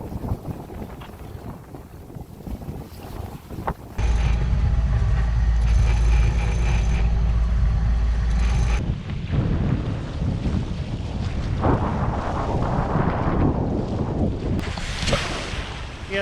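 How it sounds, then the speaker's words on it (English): Strong wind roars loudly past a sailboat heading to Looe Key, with heavy buffeting and rushing water noise rising and falling throughout, no voices. "this wind is perfect"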